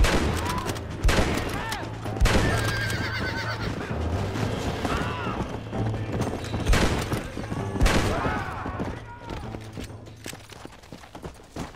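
Western gunfight in the video game Red Dead Redemption: bursts of rapid gunfire and single shots crack out repeatedly while horses whinny and hooves clip-clop, with scattered shouting voices throughout.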